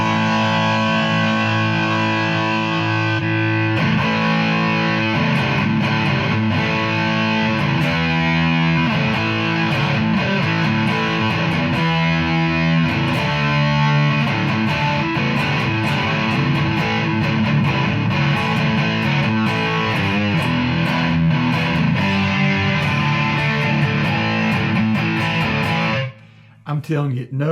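Distorted electric guitar played through a Vox VT40X modeling amp preset, loud and continuous with sustained chords and riffs throughout, stopping abruptly near the end.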